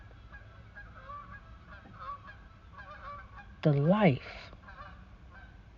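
A goose gives a single loud, nasal honk that rises and falls, standing out briefly over quiet background sound and a faint voice.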